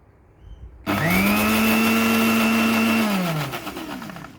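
A blender whirs loudly as it beats homemade mayonnaise with oil, starting abruptly, holding a steady high motor whine for a few seconds, then winding down near the end, with no voices.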